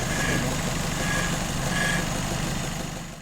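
A 1960s Citroën Traction engine idles steadily nearby, a smooth continuous mechanical hum with faint whining tones.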